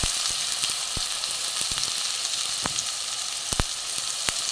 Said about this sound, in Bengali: বেগুনটা প্রথমে আমি ভালো করে ভেজে নেব